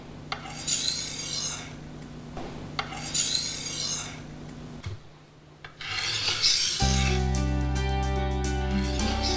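Knife blade stroked across a Norton sharpening stone, repeated raspy grinding passes in a steady rhythm, close and fairly loud, with a brief quiet pause and a stronger scraping run at the end.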